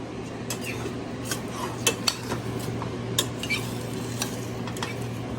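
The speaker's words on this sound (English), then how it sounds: "You stir it once in a while." A hot pot on a stovetop gets stirred, scattered clinks and scrapes of a utensil against metal over a steady kitchen hum, with canned carrots and syrup warming inside; no talking.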